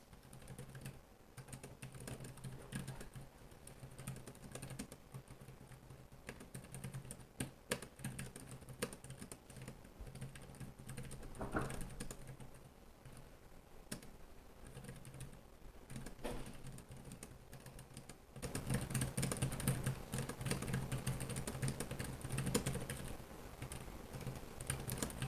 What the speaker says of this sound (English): So I'll do a quick typing test here.